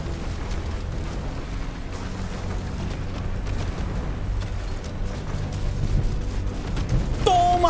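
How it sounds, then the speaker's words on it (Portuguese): Gunfire and explosions from the mech tactics video game Phantom Brigade make a steady, low rumbling barrage with scattered impact pops, building slightly toward the end, where a sharp tonal effect rings out. "Vou continuar atirando"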